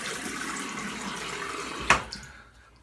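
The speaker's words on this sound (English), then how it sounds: "I'm gonna clean up the sink, clean up my gear" Water runs steadily from a tap into a sink being cleaned, a soft continuous wash with a sharp clunk near the end before it tapers off to quiet.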